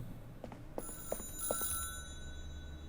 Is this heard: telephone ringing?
yes